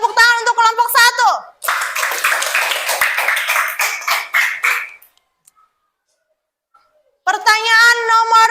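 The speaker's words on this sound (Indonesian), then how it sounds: "Tepuk tangan untuk kelompok 1." Students in a classroom clap for group 1. A burst of applause runs for a few seconds between stretches of children's voices, then goes quiet before voices return.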